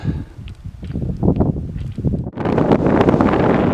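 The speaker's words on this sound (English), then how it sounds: "We shall have to shout out the sound of the wind." Gusty wind on a mountain pass at Gable Girdle buffets the microphone in uneven blasts, building into a strong, continuous roar in the second half.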